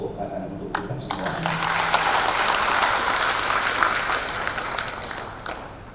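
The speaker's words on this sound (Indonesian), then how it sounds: "marilah kita tepuk tangan untuk kita semua" Applause from a crowd at an Indonesian Democratic Party training event, a steady wash of clapping that swells after the first second and holds fairly loud before easing slightly toward the end.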